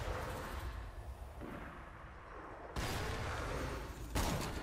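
Gunfire in Borderlands 2, a rumbling stretch of battle noise broken by two sharp, louder bursts of shots about a second and a half apart.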